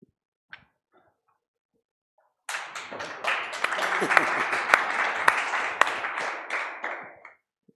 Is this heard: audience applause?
yes